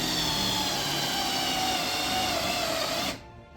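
A 7/16 spade bit bores a hole in wood for a sliding barn door roller bolt, a loud steady whirring drill with a slowly falling whine that cuts off abruptly near the end.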